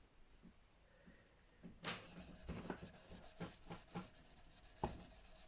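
Short rubbing and rasping strokes as frets are polished on a Gibson Les Paul during a setup, a sharp scrape followed by a run of quiet, uneven, close-up passes.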